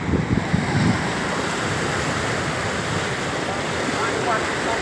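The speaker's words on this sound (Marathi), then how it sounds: "खाली शिने नदीला जात आहे पाणी" River water flows downhill toward the Sina river, a loud, steady rushing roar with wind buffeting the microphone, and a few brief voices heard early on.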